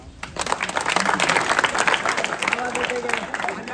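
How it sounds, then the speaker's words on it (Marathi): Crowd applause at a Pro Govinda human-pyramid event, a dense sustained burst of clapping that swells and holds, mixed with cheering voices and an amplified voice over the top. "जागेसाठी टाळ्या एकदा"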